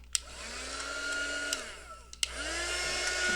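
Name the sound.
heat tool drying gesso and glue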